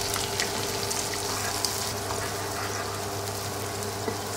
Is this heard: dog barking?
no